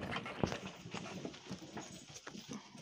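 Working horses hauling a manure cart on a Ukrainian farm make irregular hoof clip-clops on the ground, moderately faint, with rustling, creaking and outdoor background noise.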